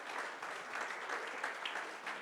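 A church congregation applauding during a sermon, steady soft clapping from a crowd, fairly distant and even.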